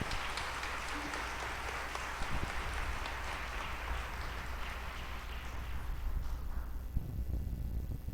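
Church congregation applauds forcefully during a Catholic preaching service, producing a dense, sustained roar of clapping with a booming low rumble, steady throughout and easing slightly near the end.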